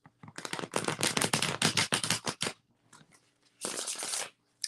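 Tarot cards being shuffled with a fast fluttering riffle, then a short pause and a second quick burst of shuffling, close up with no speech.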